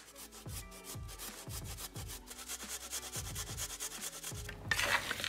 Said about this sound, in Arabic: وهلأ آخر خطوة بدنا نبشر جزرة واحدة كبيرة